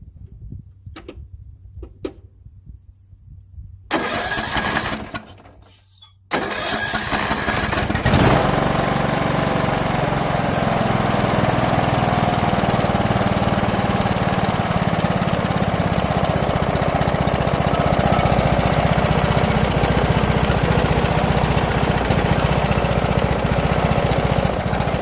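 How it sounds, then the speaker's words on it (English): A Briggs and Stratton 15.5hp engine on a Mountfield 4155H mower, leaking oil, cranks in short bursts, catches and settles into a loud, steady running drone that carries on without talk. "So let's see if it will start."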